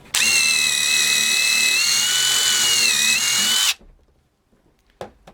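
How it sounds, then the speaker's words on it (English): A handheld impact driver runs at a steady, high whine for about three and a half seconds, loud and close, then stops abruptly. A couple of faint knocks follow. "And your impact driver."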